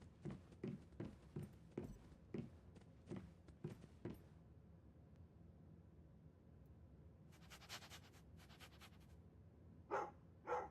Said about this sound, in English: I think the dog is telling me I smell like crap.